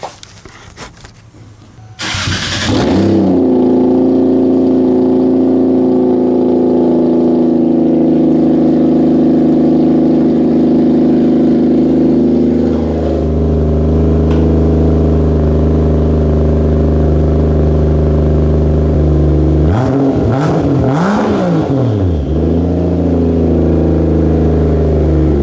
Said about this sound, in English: I guess we should probably hear what my car sounds like with it with no muffler.